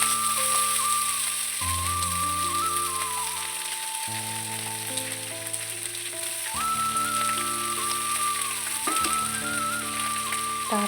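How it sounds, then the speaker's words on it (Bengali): Onion stalks frying in oil in a pan give a steady, soft sizzling hiss that runs beneath louder background music throughout. "তেলের উপর পেঁয়াজ কলিগুলো দিয়ে দিলাম।"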